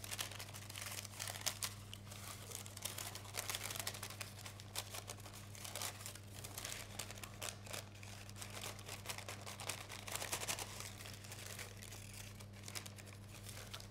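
Baking paper is peeled away from a pressed biscuit cheesecake base in a tin, a faint, continuous crinkle and soft tearing close by over a low background hum, with no talk.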